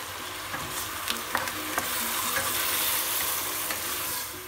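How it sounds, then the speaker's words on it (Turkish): Onions and tomatoes sauté in a pan with a steady close sizzle, interrupted by a few sharp clicks and scrapes of stirring. "Soğanlar kavrulacak, biraz perselenecek."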